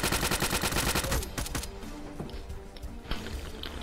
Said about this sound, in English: Yeah, that is the silencer pistol.